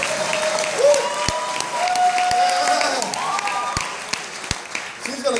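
An audience claps and cheers at a jazz concert with an honors jazz band: a dense, steady wash of applause with whoops and a whistle on top, while voices call out over it.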